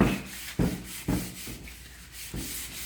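Hand sanding along the edge of a kitchen cabinet with a handheld sanding piece, prepping it for paint: close, steady back-and-forth rasping strokes, each push marked by a scratchy surge, about four or five in under three seconds, with no talking.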